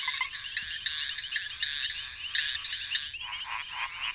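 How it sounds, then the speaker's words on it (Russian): Many frogs calling together in a mating chorus, a dense continuous trill of overlapping croaks that stays steady and fairly close, thinning slightly toward the end. "В большинстве случаев, призывая партнеров, лягушки издают зов."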